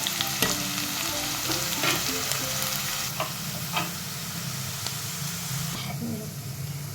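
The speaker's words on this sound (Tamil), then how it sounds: "நல்லா வதக்கிக்கோங்க. நல்லா எண்ணெய் தாராளமாக விட்டுக்கோங்க. வெங்காயம் வந்து கொஞ்சம் கோல்டன் ப்ரௌனாக வரணும்." Onions sauté in plenty of oil for an egg curry, with a continuous close sizzle and hiss broken by light clinks and scrapes of stirring.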